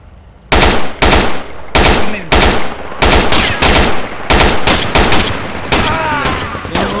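Rapid bursts of automatic gunfire in the tactical military shooter game Project Reality, about ten loud, sharp volleys spaced evenly over several seconds, close and dominant with a sustained ringing tail near the end.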